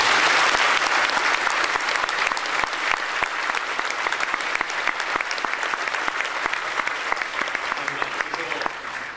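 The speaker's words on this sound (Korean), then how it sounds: "여러분 큰 박수로 축복하며 격려해 드리겠습니다" Church congregation applauding together, a steady dense clapping that fills the whole stretch without a break, loud and close, gradually thinning slightly toward the end.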